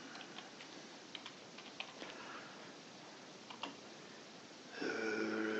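Light keystrokes on a computer keyboard while entering text in a code editor, soft scattered clicks at an uneven pace, fairly faint over a steady background hiss, ending in a brief louder tonal burst.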